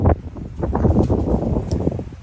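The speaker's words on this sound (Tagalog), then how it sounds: "tingnan niyo yung paligid at sobrang mahangin." Steady wind gusts buffet the microphone, a low rumbling roar with faint rustling throughout.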